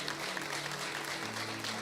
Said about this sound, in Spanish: Yo no sé si le da un aplauso al Señor por este acontecimiento.